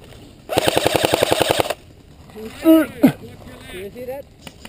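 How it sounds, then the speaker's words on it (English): Rapid bursts of airsoft gunfire in a flanking attack game at an outdoor field, a dense rattling volley of about a dozen shots lasting over a second, followed by shouted voices of players. "We got a lot of fire coming down."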